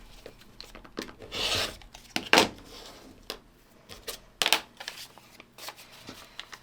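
Quilt block fabric being trimmed with a rotary cutter against a ruler: several short scraping and rubbing strokes, close and moderately loud, separated by quiet pauses.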